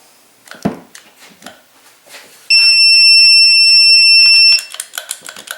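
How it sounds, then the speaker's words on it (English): A steady, shrill electronic beep from a Motomaster Eliminator 1400 amp booster pack with built-in compressor sounds continuously for about two seconds, loud and close, between scattered clicks and handling noises. "I don't know if it's supposed to beep like that, but that's pretty annoying"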